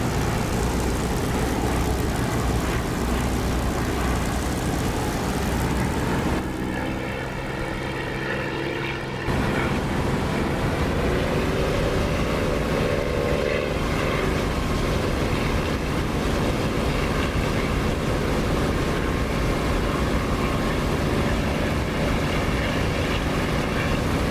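Aircraft in the DCS flight simulator on landing approach with gear and flaps going down, a loud continuous engine drone with a brief change in tone partway through, then steady roar to the end.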